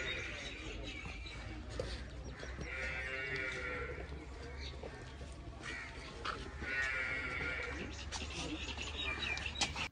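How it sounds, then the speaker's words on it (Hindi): Cattle and buffaloes on a farm in the sun give long, low moos twice, over a steady rural background with crows cawing nearby and faint murmuring voices. "भैंसे बाहर धूप में बैठी हुई हैं"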